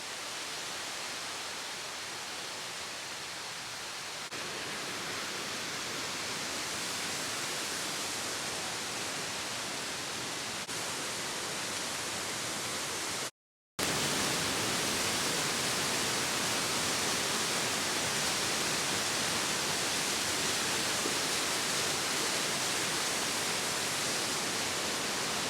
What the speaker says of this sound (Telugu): ఈ వాటర్ ఫాల్ నిజంగా చాలా బాగుంది.